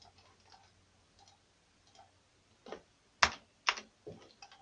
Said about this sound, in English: click this, click your mouse away